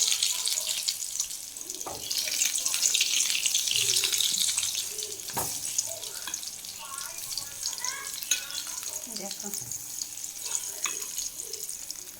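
Eggplant slices fry in plenty of hot oil with a bright, continuous hiss, and occasional utensil clinks and scrapes sound nearby.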